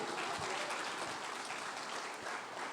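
A church congregation claps during a sermon, a brief, continuous patter of many hands that stays even throughout, heard faintly and without voices.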